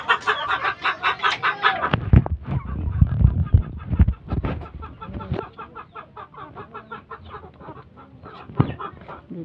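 Roosters crow and cluck at a small gamefowl farm, loud and close, with overlapping calls from several birds and a busy yard of fowl noises continuing throughout.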